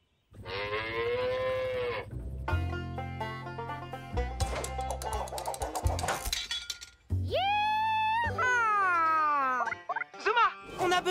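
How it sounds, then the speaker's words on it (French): A cartoon cow from Paw Patrol gives long, loud moos, one at the start and another later, mixed with clinking effects, music and animated voices. "Une des vaches est partie en mer sur une barque!"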